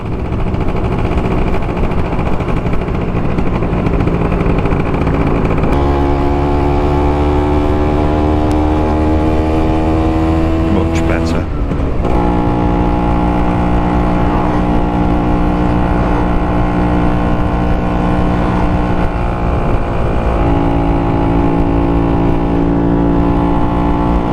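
A Vespa PX scooter with a Pinasco 251 kit revs on a dyno, loud and steady, its pitch stepping up in sustained revving stages with a brief drop midway, induction roar audible, no voices present.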